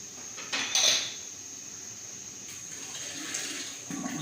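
A spoon stirs black carrot kanji in a pot with beetroot, mustard seeds and black salt, giving soft liquid swishing and a few light clinks against the vessel, quiet and close.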